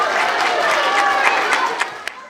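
A school talent show audience at Salesianos greets dancers with loud, sustained clapping and cheering from a packed hall, a few sharper claps standing out near the end.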